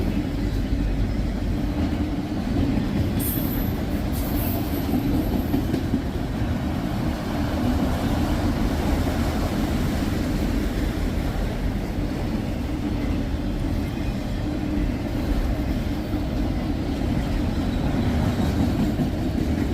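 A fast CSX tank train rolls past on a windy day, a loud continuous rumble and rush of railcars that stays steady and close throughout, with no voices.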